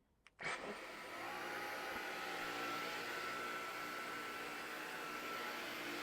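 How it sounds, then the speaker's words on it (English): A Dyson Gen5Detect cordless vacuum cleaner on its auto setting switches on with a click. It quickly rises to a steady, loud, high whine and airflow hiss that holds unbroken throughout. "we're going to turn on the vacuum. It's going to be set to auto."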